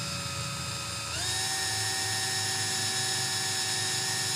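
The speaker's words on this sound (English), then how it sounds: "you're just gonna wanna drill just a little" A small drill spins steadily as it bores a little hole into a project piece, its high whine constant and close. Partway through, the pitch steps up slightly and then holds there.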